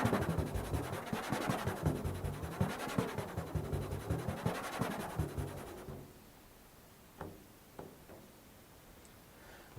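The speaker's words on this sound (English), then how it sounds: "When you combine this with a glissando effect with the left hand," A drumhead is scraped with the soft pad of a finger while the left hand bends the pitch in a glissando, making a wavering, rising-and-falling rub with light pulsing. It fades after about six seconds, and a few faint taps follow.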